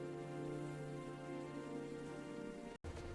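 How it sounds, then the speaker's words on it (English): Steady rain falls in Bergen, Norway, a soft, continuous patter with a faint background hum, broken by a brief cut near the end. "It is raining."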